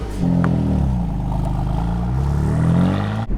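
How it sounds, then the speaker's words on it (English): A BMW F80 M3 engine and exhaust drone steadily and loudly from close by for a few seconds, with a low, even harmonic tone that ends abruptly. "The exhaust note on the F80 isn't the best thing."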